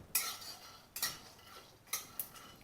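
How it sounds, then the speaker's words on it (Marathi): Peanuts roast in a pan while a utensil scrapes and clinks against it in faint, sparse strokes about once a second, with no talking. "शेंगदाणे भाजायचं काम चालू आहे माझं"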